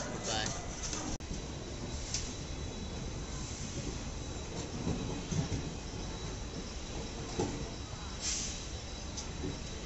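Train at Varanasi Junction station pulling out on departure, a steady rumble of moving carriages with faint wheel squeal and station noise throughout, voices in the background.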